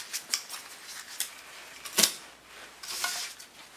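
A plastic fork stirs acrylic paint in a cup, producing sparse, faint clicks and scrapes in an irregular rhythm close by, with a sharper tap midway.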